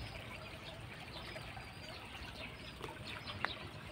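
A small stream runs nearby, its faint, steady trickle and burble continuing throughout with a brief splash near the end, soft and somewhat distant.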